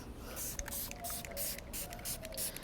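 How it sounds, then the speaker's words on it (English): A hand spray bottle mists a group of houseplants in a quick series of soft, hissing spritzes, close to the microphone and fairly quiet. "I'm giving this spray down."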